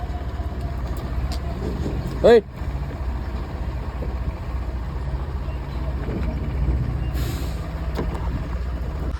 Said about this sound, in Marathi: हे आपल्या चाकांचं ट्रॅफिक म्हणलं ना, लय ट्रॅफिक हो, लय लय बेकार ट्रॅफिक.